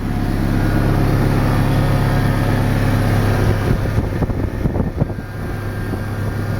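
A 1999 Toyota Tacoma 2WD idles with a steady, loud low exhaust rumble that runs without a break, and a few small bumps and clicks come in toward the end.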